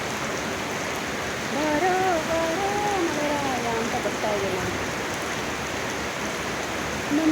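Steady rain pours down in a dense, even hiss through the whole stretch, with a voice rising and falling over the middle part.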